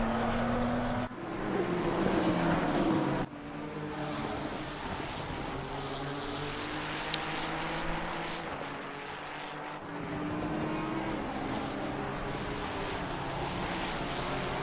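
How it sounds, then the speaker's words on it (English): GT race cars at Watkins Glen in a sim racing game roar past with engine and tyre noise. Several passes rise and fall in a steady loud wash, with no talk. "here is our race leader, Westland, getting ready to come through the start-finish straight"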